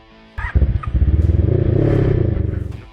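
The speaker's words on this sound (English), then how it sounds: "Roaring in at number 12, Honda Magna V45." A Honda Magna V45 cruiser's V4 engine kicks in and revs up hard, a loud, close, pulsing roar that holds steady then eases slightly toward the end.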